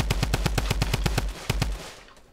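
Rapid automatic gunfire in Fortnite rattles off in a fast, evenly spaced burst of about a dozen loud shots, pauses briefly, fires a few more, then fades into quiet.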